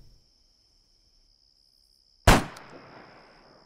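A single heavy gunshot from a big gun in the Arma 3 military game cracks out sharply after near silence and a thin steady tone, then trails off in a short rumbling echo.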